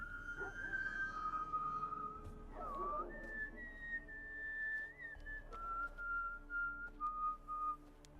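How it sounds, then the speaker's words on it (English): Whistling in the video game Witcher III Hearts of Stone: a long, clear, wavering melodic whistle that glides between pitches, heard over a low ambient game background throughout. "What was that whistle?"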